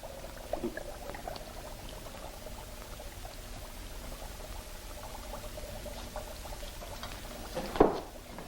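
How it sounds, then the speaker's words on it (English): Liquid being poured with a soft gurgling trickle, quiet and steady, ending with a brief louder clink near the end. "You hold this while I pour this chemical."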